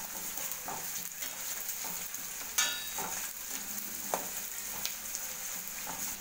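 Onion and crushed garlic frying in oil, a steady close sizzle broken by scraping stirs and a few sharp spatula clinks.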